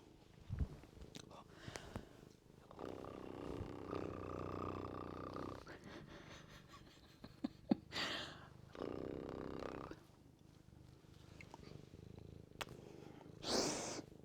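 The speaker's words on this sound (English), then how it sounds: "Let's do some dual purring." Soft, low cat purring rumbles on and off beneath quiet, murmured talking, close to the listener.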